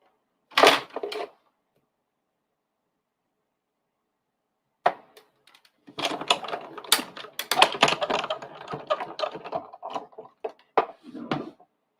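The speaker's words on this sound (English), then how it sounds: "So I'm just going to cut these real fast." Paper pieces for card making being cut: one short crisp snip, a long silence, then a dense run of close scissor snips and paper rustles of uneven rhythm, no talking.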